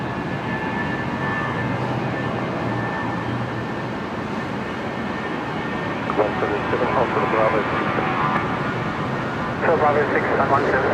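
A Jetstar Airbus A320 departs Brisbane Airport at twilight, its distant jet roar steady and broad, with air traffic control radio chatter cutting in toward the end.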